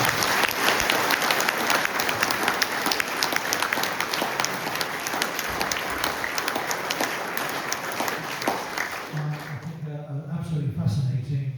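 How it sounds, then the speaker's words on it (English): A big round of sustained audience applause after a highways project presentation, thick and continuous, tapering near the end as a voice begins speaking. "I think a big round of applause for Jonathan"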